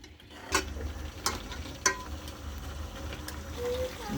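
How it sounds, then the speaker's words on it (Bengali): Desi chicken curry stirred in a pot, a few distinct scraping and knocking strokes of the spoon over a low steady sizzle, close and moderately quiet. "এবার লাড়া দিতে হবে"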